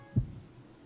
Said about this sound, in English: Why did I just heartbeat?